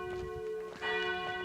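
Church bells ring steadily in Vézelay, France, their sustained tonal peals layered and continuous, growing slightly louder partway through with no talking.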